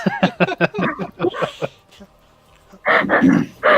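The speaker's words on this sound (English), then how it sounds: "And my dog is going crazy." A pet dog barks in a home, with several short barks mixed among voices talking. A louder run of barking or yelping follows a brief lull.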